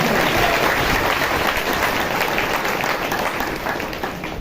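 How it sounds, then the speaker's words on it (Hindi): A church congregation bursts into loud, dense applause in thanks to God, a continuous wash of clapping that holds steady and fades a little at the end. "जोर से ताली बजा दे, परमेश्वर का धन्यवाद करें"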